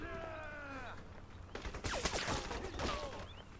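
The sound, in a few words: gunfire in the video game Crysis Remastered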